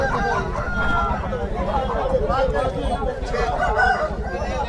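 A rooster at a Saturday hen market crows loudly and up close, its call continuing through the clip while people talk nearby.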